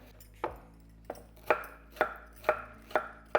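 A knife chops raw green plantain finely on a board in a home kitchen, with six sharp, evenly spaced strikes that ring close and clear, no talking over them.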